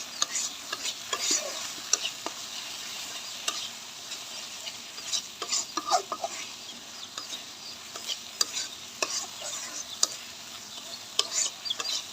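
Fish with mustard greens sautéing in a pan, close spatula scrapes and clinks landing in irregular bursts over a faint steady sizzle, with no one talking.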